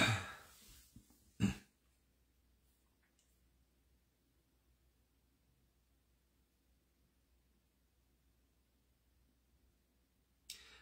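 A couple of short coughs and throat clearing, close by, then a long stretch of near silence before another brief cough at the very end.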